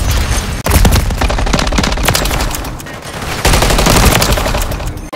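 Rapid, loud automatic gunfire from Modern Warfare 3, sustained bursts close by with brief gaps, dense and continuous across the whole stretch.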